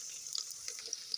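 Green chillies and ginger fry in a pan, giving off a soft, continuous sizzle with faint crackles and a few light pops; quiet and close, with no talking.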